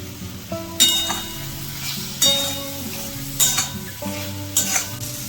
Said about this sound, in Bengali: একসাথে আমি মশলার সাথে আলুগুলোকে কষিয়ে নেব।